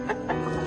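A big rooster clucking close by, a few short throaty clucks in a quick uneven series with no speech over them.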